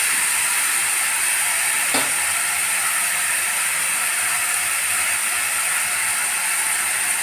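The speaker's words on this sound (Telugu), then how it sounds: "టమాటా, కాసేపు వేగనివ్వాలండి." Tomato sizzling as it fries in a pan for a brinjal curry, a steady loud hiss with a faint crackle that runs evenly throughout, one small tap near the start.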